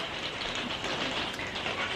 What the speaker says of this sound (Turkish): Çok güzel bir böyle yaz yağmuru var bugün